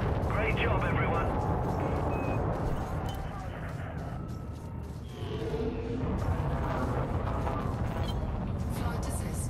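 Dense, continuous weapons fire and booming blasts from a space combat video game, loud and sustained throughout with a brief dip midway, with game voices mixed in underneath.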